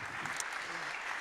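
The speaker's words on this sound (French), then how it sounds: "Je m'attendais à ces applaudissements." An audience at a literary festival talk applauds in a steady, even wash of clapping that fills the short moment without a break.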